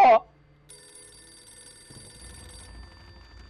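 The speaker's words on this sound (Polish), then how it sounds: "Nie wiem, czy chcę dobrać telefon." Telephone ringing in the horror video game Visage, a bright electronic ring tone that sets in after a brief burst of speech and holds steady, with low rustling noises joining toward the end.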